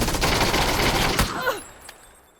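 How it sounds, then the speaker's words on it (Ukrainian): A rapid burst of MP5K submachine gun fire in a video game rattles loudly for over a second, then cuts off and leaves a short fading echo with a faint pop. "Ззаду хтось стріляв."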